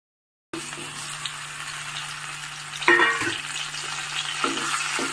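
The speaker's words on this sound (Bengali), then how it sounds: "কড়াইয়ের তেল গরম হয়ে গেছে, আর আমি তেলটা এখন এই খুন্তির সাহায্যে চারদিকে একটু মাখিয়ে দিচ্ছি" Hot oil sizzles steadily in a wok as a metal spatula spreads it around before Indian plums go in for pickle, with a brief louder scrape and hiss partway through. No one speaks.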